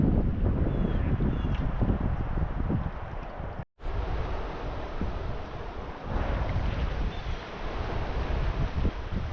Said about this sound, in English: Oh, the wind, she's a bitch.